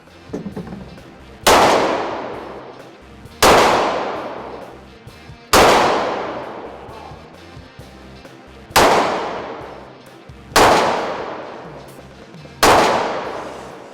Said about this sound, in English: A little 38 special, little revolver, nice and lightweight, small gun.